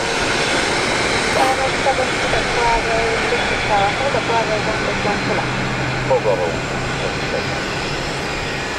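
A business jet taxis close by at Luton airport, a steady loud turbine whine and rush with engine tones, while people talk over it throughout.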